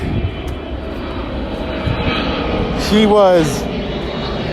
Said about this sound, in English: wait, hold up, fuck this plane.